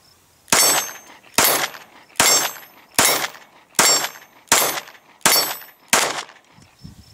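A Glock pistol fired at a range in eight evenly spaced shots about a second apart, each a sharp loud crack with a brief ringing tail, close and with no talking.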